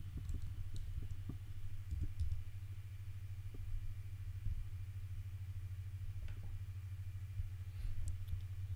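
Someone types on a computer keyboard while entering a web search. Faint, scattered clicks and keystrokes sit over a steady low electrical hum, with no speech.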